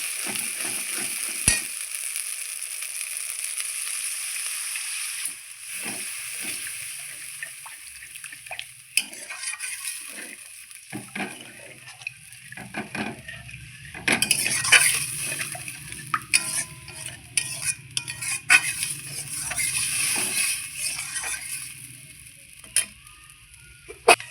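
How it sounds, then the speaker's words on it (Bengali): Water hits fried masala in a pan for a duck egg curry gravy, and the earlier steady sizzle turns into a lower bubbling hiss with utensil clinks and scraping stirs, close and without voices. "আমার মশলা কষানো হয়ে গেছে এবার দিয়ে দিচ্ছি গ্রেভির জন্য হালকা জল"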